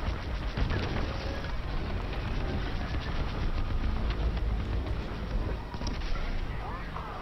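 Starfighter laser fire and explosions roar in a dense, steady barrage during a Star Wars: Squadrons dogfight, loud and continuous with a flickering rattle throughout.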